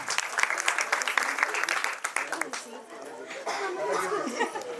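A crowd claps loudly and continuously at a Home Minister paithani prize-giving game show in Koproli, Uran, the dense applause mixed with some laughter and chatter before easing and settling into softer clapping.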